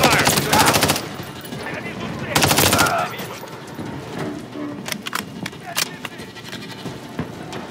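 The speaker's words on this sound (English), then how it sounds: "There's enemy fire." Enemy gunfire in Call of Duty: Modern Warfare 3 breaks out in two loud rapid bursts, followed by scattered single shots over a steady battlefield rumble.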